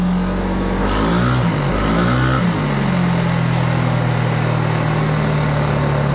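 A motorcycle engine with an Uma M9 tuned ECU is held at a steady high rev during dyno tuning. It is loud and close, with wavering pitch in the first seconds before it settles into a constant drone.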